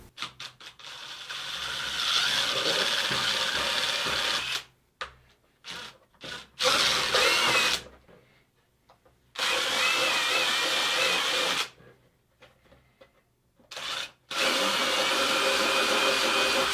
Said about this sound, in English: When you drill these out, it's a good idea just to run the drill backwards and forwards a few times.